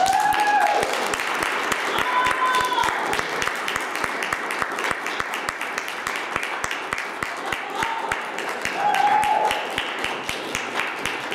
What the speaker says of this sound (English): let's have a big round of applause for St.